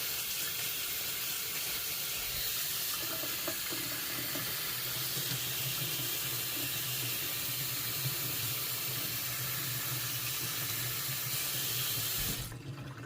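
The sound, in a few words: cold tap water running over popcorn in a strainer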